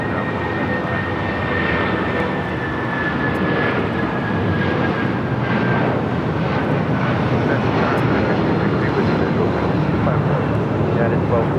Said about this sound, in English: United 757 now taking off, 25 right.